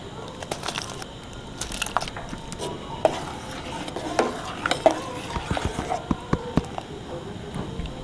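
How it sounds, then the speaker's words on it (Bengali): Rice stirred through boiling milk in a pot for payesh, with a steady scraping and stirring and scattered sharp clinks of a spoon against the pot, close and moderately loud. "দুধ ফুটে গেছে চালটা দিয়ে দিছি"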